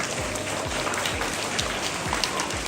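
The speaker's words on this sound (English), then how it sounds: "Let's give all of our Panthers a round of applause." A school assembly audience of second graders applauding, a steady, dense patter of clapping that carries on evenly throughout at moderate volume.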